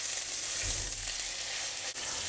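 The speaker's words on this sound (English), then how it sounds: "You'll know when you put the fish in, you'll hopefully hear a nice healthy sizzle." A continuous hot sizzle of fish frying in a pan, steady and close, with a faint low bump partway through.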